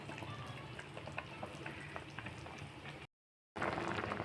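A pot of tilapia sour curry with mango simmers with a soft steady bubbling and sizzling crackle, close and continuous, broken by a brief moment of silence before the bubbling resumes.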